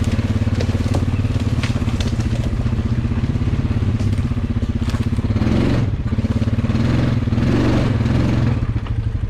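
A four-wheel-drive vehicle rides down a river trail, its engine chugging loud and close with a steady rhythmic throb, accompanied by crackling and clattering from the rough ground.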